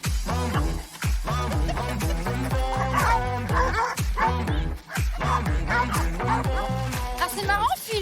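A dog yelps and barks in quick, repeated bursts while running alongside people and another dog outdoors. The sharp, close cries and whimpers come almost continuously.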